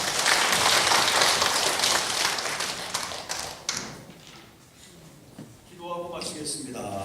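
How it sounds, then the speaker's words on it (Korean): A church congregation claps together in a dense, loud burst that thins out and fades after a few seconds, followed by softer room noise and a voice speaking near the end. "박수합니다."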